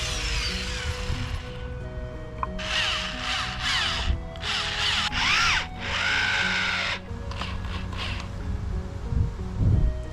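A power drill driving screws into a wooden mold frame on an uneven surface, several short whirring bursts of rising and falling motor pitch, close and fairly loud, separated by brief pauses.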